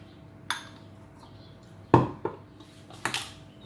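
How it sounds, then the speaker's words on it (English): A spoon stirs mustard into homemade French mayonnaise in a bowl, giving a few sparse, sharp clinks and knocks against the bowl over a quiet background. "You stir it. Make sure you mix the mustard."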